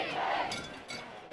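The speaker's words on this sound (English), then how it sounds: "Here's the Viking crowd." Home crowd at a high school football game between the Jasper Vikings and Sipsey Valley Bears, a broad roar of cheering and yelling from the stands, loud and continuous with a few brighter bursts.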